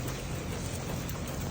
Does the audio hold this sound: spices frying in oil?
no